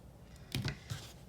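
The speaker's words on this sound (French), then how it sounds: "je coupe mon fil" Scissors snip through crochet yarn on a slipper project, two quick close cuts followed by a third soft snip, crisp and brief against a quiet room.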